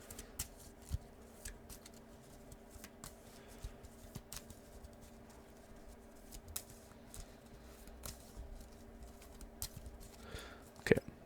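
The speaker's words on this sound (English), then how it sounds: "So I'm going to shuffle up the dungeon." Dungeon cards of the Iron Helm board game being shuffled by hand on a table: a faint, irregular series of soft card riffles and taps over a quiet room hum, with a sharper clack near the end.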